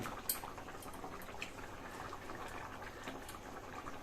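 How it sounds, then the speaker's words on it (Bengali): Pumpkin and prawn curry boiling in a pan, with a soft steady bubbling and faint popping at low volume, heard alone without talk. "আমাদের তরকারিটাও এখন ফোটা শুরু করেছে"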